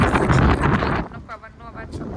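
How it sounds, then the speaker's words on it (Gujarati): Strong wind blows outdoors, roaring and buffeting the microphone loudly for about a second before easing into a lighter, steadier gusting. "પવનનો અવાજ સંભળાતો હશે."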